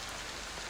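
Steady rain falls as ambience during a tabletop RPG session, a brief, even hiss of drops on hard surfaces with no voices.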